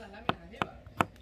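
Three sharp knife chops on a cutting board mincing garlic while preparing pipián guisado in a home kitchen, evenly spaced and close, alone without talk.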